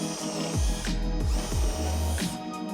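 A power drill drives screws into a wooden door frame in a small workshop, with repeated whirring bursts that rise and fall in pitch, close and loud, each pulse under a second long.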